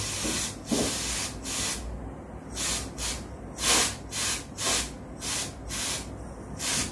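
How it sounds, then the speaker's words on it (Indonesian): Chief Clipper Pro spray is sprayed onto a hair clipper blade in a series of about ten short, sharp hissing bursts at a fairly regular rhythm, close up, with no talking. "akan kita coba semprotkan pada clipper ini menggunakan chip clipper pro"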